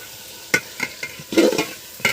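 Mutton curry being stirred and fried in a pot, with a spoon scraping and clacking in several irregular strokes, close up, over a soft sizzle and no talking.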